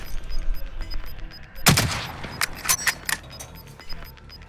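A sharp gunshot bursts close by in Call of Duty Warzone, followed by a few scattered quieter shots and faint clinks over a low game background, with no talking.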